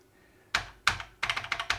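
Keys on a BBC Master 128 computer keyboard are pressed one after another, a couple of separate clacks followed by a quicker run of close, crisp taps, with no voices.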